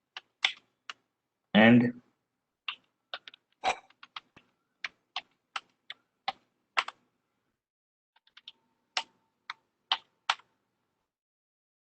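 Crisp, close keystrokes on a computer keyboard as code is typed, sounding as isolated taps and short bursts with silent gaps between, plus one brief spoken word.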